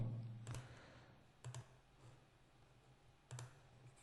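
Keys tapped on a computer keyboard to enter a value: a few quiet, separate clicks spaced over a few seconds, faint and close, with no talk.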